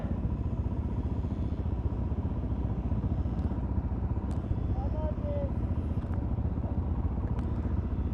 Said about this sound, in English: It looks like we're on a little Honda CRF 230F. About to ride with these boys.